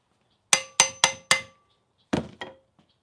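Hammer blows on a Jeep engine during valve removal: four sharp metallic strikes in quick succession, a pause, then two more, close and loud with no talking.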